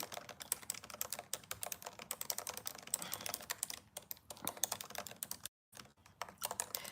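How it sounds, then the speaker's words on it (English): Quick, irregular clicking of fingers typing on a computer keyboard, close and fairly quiet, in bursts with a short pause near the end, no voices. "I'm typing this because I want to email my list"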